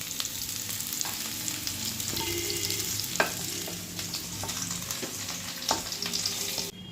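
Vegetables for a vegetarian navratan curry fry in a kadai with a continuous sizzle and crackle. A spatula makes occasional scraping stirs, the sizzle drops off at the very end, and there is no speech.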